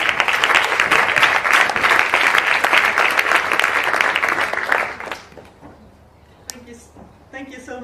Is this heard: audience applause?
yes